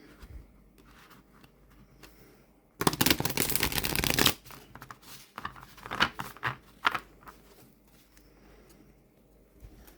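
Glossy, slightly slippery Wise Dog tarot cards being shuffled, a dense riffling burst of about a second and a half followed by softer scattered card taps and slides, close and quiet.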